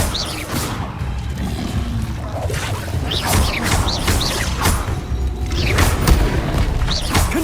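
Repeated Bombarda spell blasts in the Hogwarts Legacy video game, loud thumping booms and crashes with swishing whooshes, densely layered over a steady rumbling game-combat background, no talk.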